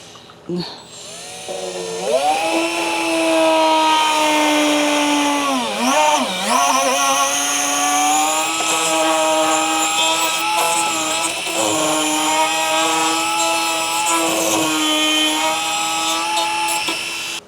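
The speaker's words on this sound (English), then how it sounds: "so we have our fancy little Dremel, but this hole right here where the camera needs to go" Dremel rotary tool cutting a camera hole in a plastic grille on a 4th-generation Toyota Tacoma, a loud close high-pitched whine that dips and rises in pitch as the bit bites into the material, running almost continuously.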